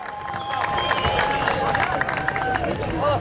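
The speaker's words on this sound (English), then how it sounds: "Give yourself another round of applause." A crowd claps and cheers at a Palestinian flag raising outside a city hall, a steady outdoor patter of hands and scattered whistles with people talking over it throughout.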